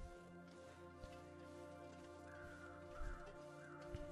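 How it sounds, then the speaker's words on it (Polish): Ravens caw a few times in the video game The Long Dark, faint and distant against a steady ambient drone and wind, with soft scattered thumps. "Są też kruki tam."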